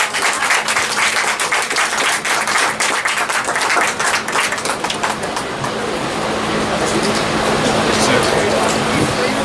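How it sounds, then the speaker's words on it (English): Audience applause for Senator Scott at a public event, a sustained, dense wash of clapping that runs the whole stretch, with a steady low hum beneath and talk mixed in at points. "Let's give him one more round of applause"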